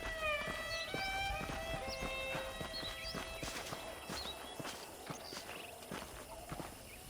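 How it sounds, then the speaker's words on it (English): Horses clip-clop at a walking pace in the Western game Red Dead Redemption, steady hoof beats over a bright ambient bed with high bird-like tones early on, no talk. "The horses are saddled up over here."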